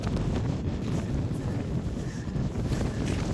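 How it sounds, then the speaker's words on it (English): Wind gusts across an exposed mountain summit camp on the Isle of Arran, a steady low rumbling buffet against the microphone and tent, moderately loud and continuous with no voices. "Since the wind's getting up a bit."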